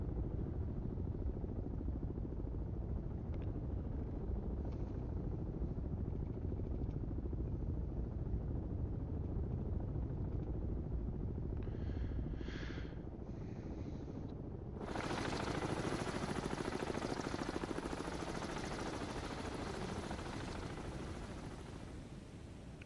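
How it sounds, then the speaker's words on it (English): Helicopter arriving in the submarine game Cold Waters, a loud, steady rumbling rotor drone lasting throughout, with the sound shifting brighter and fuller partway through as it draws nearer. "And cue the helicopter."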